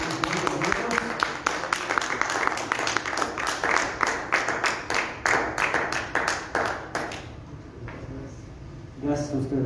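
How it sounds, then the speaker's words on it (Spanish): An audience claps after a talk in Santiago de Querétaro, a steady run of sharp, rhythmic claps that carries for several seconds before thinning out, ending with a voice starting to speak. "brindémosles un fuerte aplauso"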